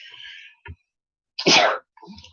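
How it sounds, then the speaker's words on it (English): A single sharp sneeze bursts out close by, with soft breathy sounds before it and a short quiet pause either side. "I knew I was going to sneeze."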